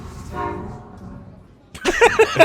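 A train passing outside a house, a low rumbling roar first, then a brief quiet before a loud horn blast with sharp tonal bursts close by.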